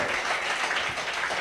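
A church congregation claps in steady, dense applause, moderately distant and even throughout the short stretch with no voices.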